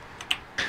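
Quick keystrokes on a computer keyboard, three or four light clicks in under a second, close and fairly soft, with no voices.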